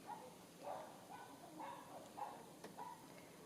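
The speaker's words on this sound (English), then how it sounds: "Oh, can hear the dogs outside." Dogs bark outside at a distance, heard indoors as a string of faint, muffled barks in an irregular rhythm of about six bursts, with no talking over them.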